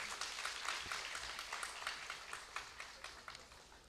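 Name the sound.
audience applause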